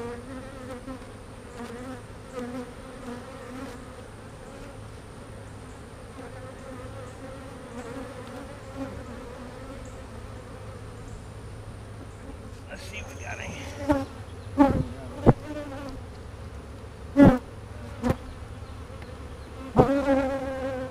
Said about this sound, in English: I got bees on my face